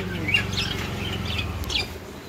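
Cockatiel singing in a pet bird colony, with bright chirps and warbled whistles over a steady low hum of background noise.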